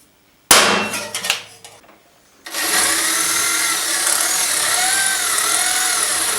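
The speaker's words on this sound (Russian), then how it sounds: "уже просто берем кернер и кернем" A few sharp metal strikes of a hammer driving a center punch into a metal elbow-armor part, ringing briefly before a pause, followed by a steady loud whirring, most likely a drill.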